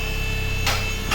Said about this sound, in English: small hammer